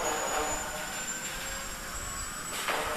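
A helicopter engine in the Granny Chapter Two video game gives a steady, dense whooshing roar that stays at an even level throughout, with no talking over it.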